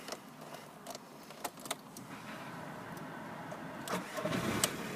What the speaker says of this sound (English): And if we get the car started up,